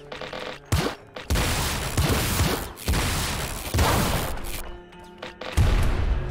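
Laser shotgun blasts from the video game Nuclear Throne, a run of loud, dense bursty shots with crashing impacts, packed closely together with brief gaps between volleys.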